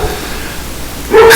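A dog lets out a single loud bark right at the end, after a quiet indoor stretch.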